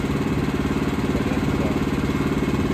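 A Woodmizer LX25 sawmill's small engine, freshly fitted with a new spark plug, runs at a steady idle with an even, throbbing chug and light mechanical clatter, close by and continuous.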